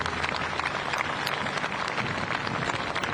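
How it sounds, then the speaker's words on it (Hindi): Large outdoor audience at an Indian Navy Day event applauds loudly, a dense continuous wash of clapping from many hands with no break across the whole stretch. "एक बार जोरदार तालियों से अपना आभार व्यक्त कीजिए।"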